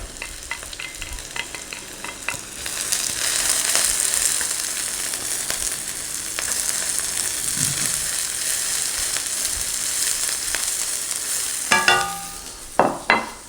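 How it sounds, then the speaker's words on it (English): Onions drop into a hot wok for a sweet potato lo mein and fry with a loud, steady sizzle that swells after a few seconds, with sharp clanks and scrapes near the end. "I can add my onions. So in they go."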